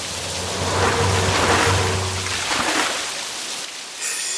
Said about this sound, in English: I can't see anything with all this rain.